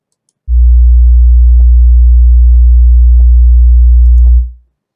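A loud, deep steady 60 hertz sine tone through a car audio subwoofer starts abruptly, holds unchanged for about four seconds, then fades out, with faint clicks over it.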